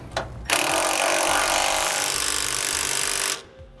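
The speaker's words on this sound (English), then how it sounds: "you'll tighten these down with a 17mm socket" An impact tool runs on bracket bolts with a 17mm socket while an RV steering stabilizer is being mounted, one loud, continuous buzzing burst lasting about three seconds, preceded by a brief short blip.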